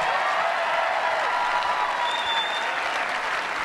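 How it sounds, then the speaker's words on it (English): Tennis crowd at the 2013 Family Circle Cup applauds a past champion after the match, a loud, dense stadium ovation that continues evenly with no talking over it. "Let's give her a great big round of applause."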